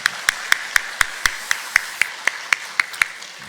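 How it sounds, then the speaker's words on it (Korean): A church congregation claps for the choir and its accompanists in a single steady, rhythmic clap, about fourteen distinct even beats at a regular tempo, clear and close, with no talking. "박수로 한번 격려해 주십니다"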